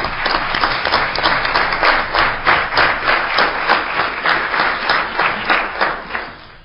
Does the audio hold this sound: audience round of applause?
yes